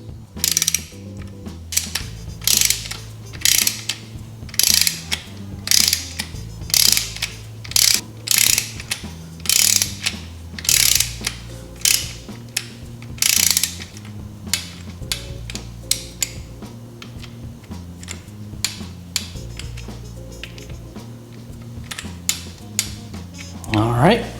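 Ratchet clicks in quick, repeated bursts as small case cover bolts are tightened to 5.1 foot-pounds, each burst a sharp run of pawl clicks separated by short pauses, close and clear.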